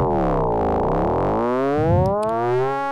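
A Weston Precision Audio 2V2 Eurorack module produces a through-zero FM cross-modulation tone with sync, a loud synthetic sweep gliding in pitch with shifting metallic overtones, alone and continuous.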